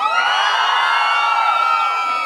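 Loud crowd cheering, whooping and shouting at a jaripeo rodeo, a dense continuous roar of many voices with no pause, close and filling the space.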